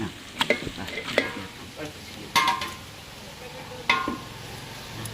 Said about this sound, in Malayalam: നന്നായി ഇളക്ക്. ഇങ്ങനെ പിടിച്ചിട്ട് ഇളക്ക്.